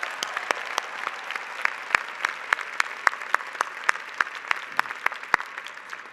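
Audience applause for honorary degree winners at a 2018 university commencement ceremony, a steady wash of many hands with sharp individual claps standing out, moderately distant and continuous throughout.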